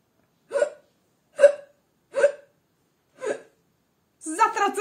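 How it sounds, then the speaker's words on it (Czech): A woman in a dramatic stage reading gives four evenly spaced, sharp hiccups, each short and close, and then starts speaking. "Zatracená škytavka."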